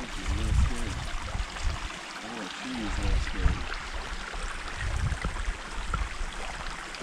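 Creek water on a farm, a faint continuous rushing and trickling close by, with scattered splashy thumps and people talking over it.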